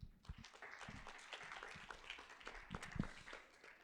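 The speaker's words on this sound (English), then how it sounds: "please just give the volunteers a round of applause" A crowd applauds with steady, dense clapping, moderately distant and sustained for a few seconds without a break.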